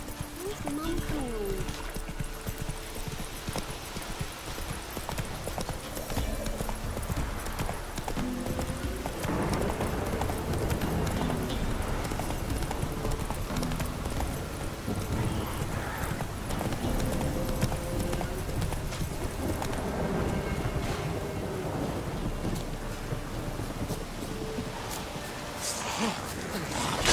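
Continuous hoofbeats of Roach, the horse in The Witcher 3, trotting along a path near Crookback Bog beneath game music and ambience, with someone talking intermittently over the long steady ride.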